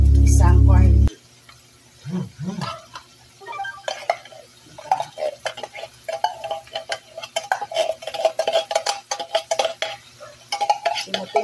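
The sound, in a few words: corned beef scraped from the can into the pan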